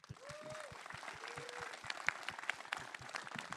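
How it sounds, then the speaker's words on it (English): Audience applause at a live in-conversation event, steady clapping from a room of people lasting a few seconds, with a voice speaking faintly over it. "One more round of applause."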